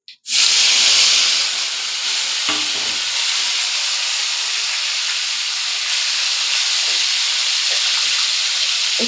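Spices added to hot oil with cumin and bay leaf for a soybean and potato curry, a loud sudden sizzle that settles into a steady frying hiss, close and continuous with no talking.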